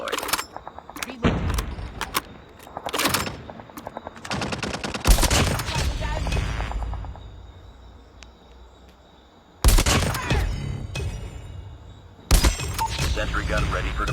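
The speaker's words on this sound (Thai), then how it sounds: "ได้ปืนกลแล้วนะครับ เอาปืนกลไปตั้งเอาเปรียบศัตรูหน่อยครับ" Machine gun fire in a Call of Duty match, heard as several loud, dense bursts of rapid shots separated by quieter gaps, with game sound and a voice talking in between.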